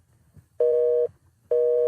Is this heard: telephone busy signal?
yes